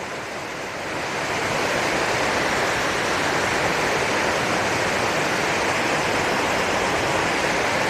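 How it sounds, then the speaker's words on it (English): A waterfall at an old cotton mill site in South Carolina pours with a steady, dense broadband rush that swells in the first second and then holds constant, with no talk. "Nice view of the waterfall."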